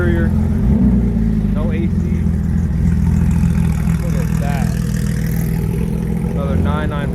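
Sports cars, including Porsches, pull out of a supercar meet parking lot, their engines idling and revving in a deep, loud rumble that holds throughout while people talk over it.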